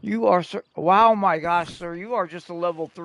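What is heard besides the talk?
No everyday noise stands out behind the speech.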